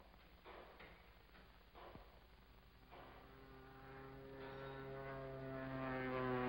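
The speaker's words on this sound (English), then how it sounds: "It isn't the mail plane. It's a small job, listen. Flying low, too." A small airplane flying low drones in the distance, a faint engine hum rising steadily in pitch and loudness as it approaches, with no talking.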